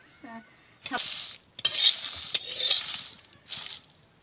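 Whole garam masala and black peppercorns fry in a pan, making close bursts of sizzling and scraping stirs with small clinks, separated by short pauses, with a brief voice at the start.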